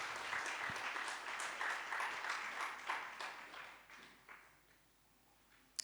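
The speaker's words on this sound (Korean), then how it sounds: "박수로 환영하실까요?" A church congregation at a Sunday service welcomes a saxophone offering with applause, a burst of clapping that tapers off gradually into near silence, ending with a single sharp knock.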